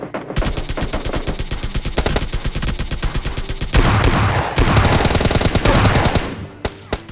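Rapid automatic gunfire in a battle royale video game, dense continuous bursts of loud shots fired in quick succession, with a heavier, more intense barrage in the later seconds.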